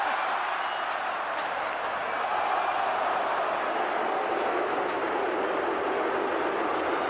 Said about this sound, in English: I don't know whether they're applauding the runner or applauding the defenders.